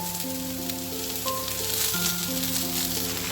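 Capsicum, carrot and green chillies sizzling in a wok, a loud, steady hiss of frying close up with faint background tones underneath and no talking.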